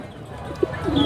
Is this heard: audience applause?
no